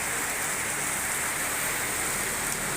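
Heavy rain pours down in a steady, dense roar, loud and continuous throughout with no voices.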